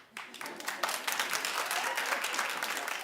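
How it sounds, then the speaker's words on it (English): A talk show studio audience breaks into brisk, dense clapping after a short quiet lead-in, holding a steady, lively level throughout. "clap if you watched, don't lie"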